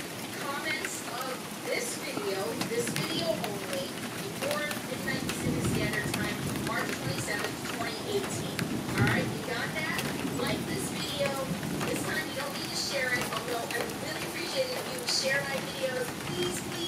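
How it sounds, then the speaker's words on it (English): Rain starting to fall during stormy weather with tornado warnings nearby, a soft steady patter with some wind buffeting, heard at moderate level under a voice speaking nearby. "The rain is now beginning here."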